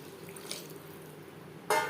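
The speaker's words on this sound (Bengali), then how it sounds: "এবার দিয়ে দেব জল।" Water splashes into a pan of Gobindobhog rice and fish for a Bengali curry, a short, sudden pour that starts near the end after a quiet stretch of faint kitchen background.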